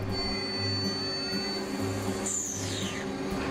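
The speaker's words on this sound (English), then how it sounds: "The bars are loaded directly into the CNC machine for milling." CNC machine milling metal rods fed in as bars in a factory, a steady mechanical hum with a whining tone, a pulsing low drone and a brief falling high-pitched sweep partway through.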